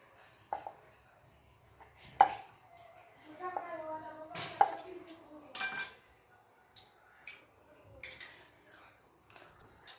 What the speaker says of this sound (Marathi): आता अशा पद्धतीने सगळ्या वड्या कट करून घेऊया